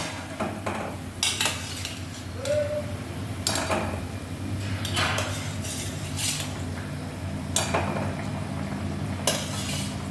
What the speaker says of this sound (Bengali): এখন দিয়ে দিচ্ছি এই মাছগুলো।